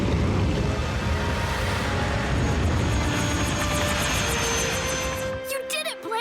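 A cartoon rescue robot's helicopter rotor spins up for takeoff with a loud, continuous mechanical roar. The engine sound then fades into a stuttering, rhythmic chop near the end.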